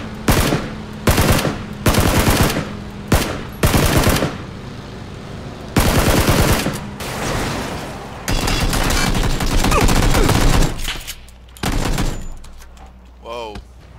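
Automatic gunfire rings out in a PUBG match, coming in repeated loud bursts and long rattling volleys with brief gaps between them.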